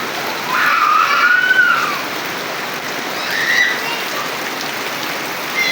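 Rain falls steadily and fairly loud during a storm, a dense continuous patter that swells briefly, with faint tonal sounds drifting over it.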